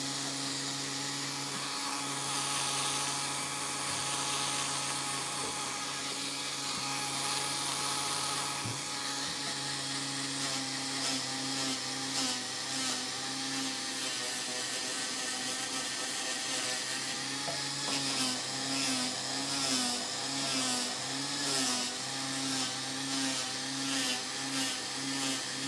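A Dremel rotary tool with a sanding attachment works over a carving, running a steady high motor whine throughout, with scratchy, rhythmic grinding pulses growing busier in the latter half as the bit moves across the wood.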